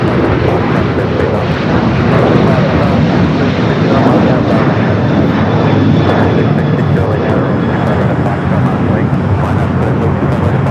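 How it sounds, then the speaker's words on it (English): A TAP Air Portugal Airbus A330neo jet arriving at LAX sends out a loud, continuous roaring engine rumble that stays strong the whole time, with faint voice chatter beneath it. "Top Air Portugal, A330 Neo up next for arrival on the north."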